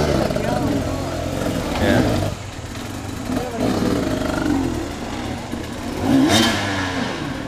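A motorcycle with electric start fires up and revs, its engine rising and falling in several loud, close bursts with clattering mechanical noise throughout.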